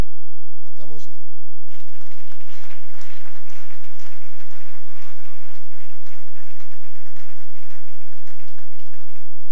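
A church congregation breaks into loud, sustained applause and cheering that swells suddenly after a short shout and keeps going at full volume with voices mixed in.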